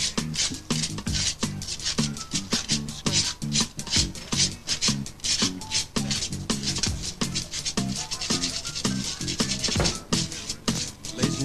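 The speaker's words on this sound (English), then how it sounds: "Okay, scrape that toast" Toast is scraped with steady, repeated rasping strokes, close and fairly loud, in an even back-and-forth rhythm with no talking.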